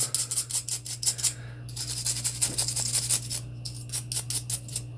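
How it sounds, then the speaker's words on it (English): Quick rhythmic scrubbing of a brush over a Glock 43 pistol magazine, close and crisp, in fast bursts separated by brief pauses, followed by softer wiping rubs. "So I'm going to go through each one and brush them down and wipe them off."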